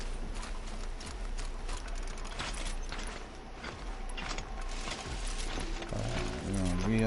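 Rhythmic hoof clops and mechanical creaking of a mount in the video game Horizon Zero Dawn play steadily, with a short tonal sound near the end; no one speaks.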